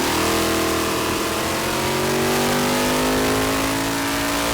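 A drag race car engine revs hard on a dynamometer, a loud, continuous mid-pitched roar with rising harmonics as the revs climb steadily, close-up and without speech.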